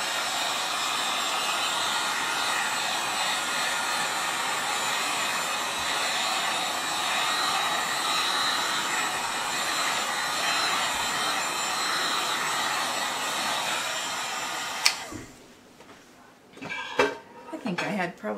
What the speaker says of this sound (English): Let's run this heat gun over it just a little bit.